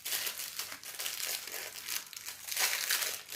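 Crinkly plastic tray of diamond painting drills being handled and pried open, a continuous close rustling and crackling with a few sharper crunches, no voices.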